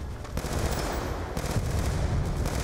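Gunfire in the video game Black Ops 2, loud rapid automatic bursts with near-continuous rattling shots and short gaps, dense and close throughout.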